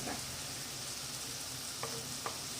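Green chillies sauté in a pan, giving a soft, even sizzle at low level with a couple of faint utensil taps near the end and no talking.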